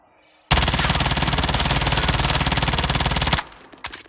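A MAC-10 submachine gun fitted with a foregrip fires one sustained, rapid full-auto burst in a video game, loud and close, lasting about three seconds before cutting off abruptly.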